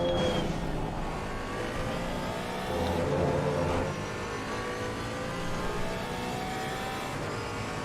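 A GT4 race car engine at Imola in Assetto Corsa Competizione drones steadily and loudly throughout, with a slight surge in revs partway through and a continuous whirring tone.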